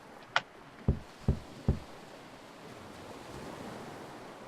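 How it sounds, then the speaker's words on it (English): Soft, steady ocean surf washes through a scene in the video game To The Moon, broken early by a high click and three dull knocks. "And the ocean waves will sing lullabies"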